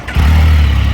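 A Can-Am Spyder F3-S three-wheeled motorcycle, a 2024 model, cranks and fires up, settling straight into a steady, loud, low engine rumble close by with no talking.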